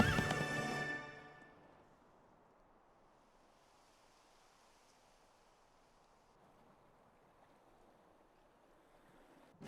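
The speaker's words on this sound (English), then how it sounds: "it's a lot of weight for one horse, even one as mighty as Max" A horse neighs loudly in the video game Kingdom Hearts III, a strong whinny in the first second that fades into a long, quiet stretch of ambient background.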